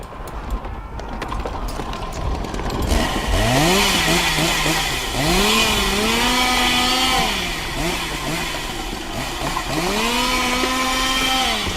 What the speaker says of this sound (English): chainsaw sound effects.